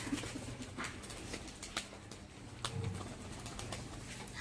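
Pigeons cooing on a tin roof, soft low coos repeating amid steady background hiss and occasional faint clicks.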